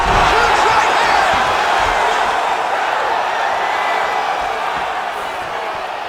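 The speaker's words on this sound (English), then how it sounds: "crowd absolutely loving it as the fighters, however compromised, make the" A virtual arena crowd roars at a UFC fight in EA UFC 5, a loud, steady wash of cheering that fades slightly toward the end, with commentary under it.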